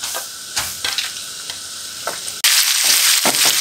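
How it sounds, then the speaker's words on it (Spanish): Purslane tossed into a pan of frying chorizo and potatoes, a steady loud sizzle that jumps sharply louder as the greens hit the hot fat, with scattered stirring scrapes. "Vamos a echarle las verdolagas, esas me gusta echárselas al último, para que no se reduzcan tanto."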